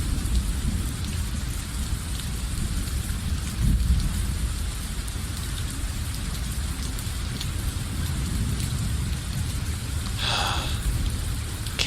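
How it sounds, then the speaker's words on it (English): Steady rain pours across a video game scene, a dense continuous hiss with a brief brighter splash of water near the end, with no voices over it. "Can't believe it's still raining."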